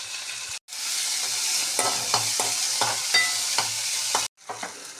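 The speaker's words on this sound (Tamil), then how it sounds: "வெங்காயம் ஓரளவு வதங்கினோன்னே தக்காளி, பெருங்காயம் வதக்கணும்" Onion, tomato and asafoetida sauté in a pan for moong dal tadka: a bright, constant sizzle fills the background while a spoon stirs with repeated close scraping clicks against the metal, briefly interrupted twice by short gaps.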